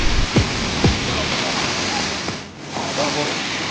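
A private waterfall in the Kotagiri hills roars with a steady, dense wash of rushing water throughout, close and loud, with a couple of brief sharp sweeps near the start and faint human sounds beneath.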